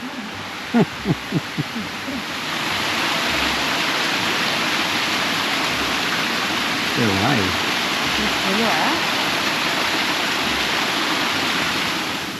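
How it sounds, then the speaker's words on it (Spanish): A rainforest waterfall in Australia rushes as a steady broadband roar. It swells in after a few seconds and keeps going, while people talk briefly over it. "Esta es la previa de la cascada"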